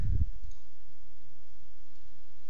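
A single quick mouse click on a Save button lands right at the start, a soft low tap followed by near silence.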